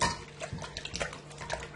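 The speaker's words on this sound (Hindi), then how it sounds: "1/2 कप तकरीबन हम इसमें पानी डाल देते हैं और अच्छे तरीके से इसको मिला लेते हैं" Half a cup of water splashes and trickles into a bowl of chicken wings with vinegar and salt, a short, close pour with uneven gurgles.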